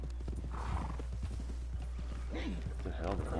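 Horse hooves clip-clop steadily on the ground in the Red Dead Redemption 2 video game, a moderate, evenly paced rhythm that runs the whole time under a voice talking over the top.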